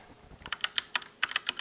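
Short run of keystrokes on a Drevo Gramr V2 mechanical keyboard with linear black switches, a dozen or so crisp, close taps in an uneven rhythm, heard alone without speech.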